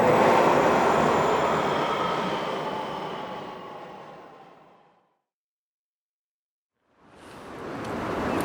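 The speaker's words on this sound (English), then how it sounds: "All right, here's my train, whatever." A train arrives at a Japanese station near Zasshonokuma. A loud, close rumble of wheels and motors slowly fades away, breaks off into silence, then returns just as strongly.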